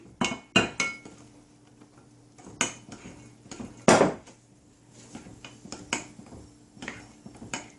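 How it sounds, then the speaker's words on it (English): A spoon clinks and scrapes against a bowl while flour and milk batter is stirred, sharp irregular knocks and clatters close by with quiet gaps between them. "So stir that nice and good after you get all the flour and milk in."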